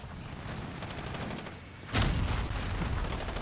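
Grenade blast in a first-person shooter match on a small close-quarters map, one sharp loud explosion about midway that lifts into a louder, rumbling stretch after steady background gunfire and game noise.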